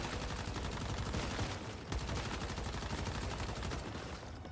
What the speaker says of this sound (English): So now I'm going to shoot these dudes.